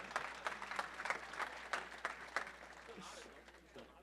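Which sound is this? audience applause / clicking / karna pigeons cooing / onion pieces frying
audience applause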